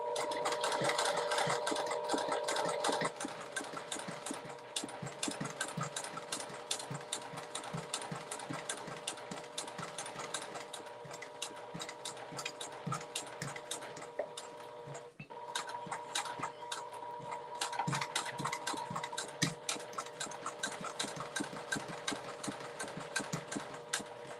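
A sewing machine stitches a fabric notebook holder in steady continuous runs with a dense mechanical whir, pausing briefly midway before resuming at close range.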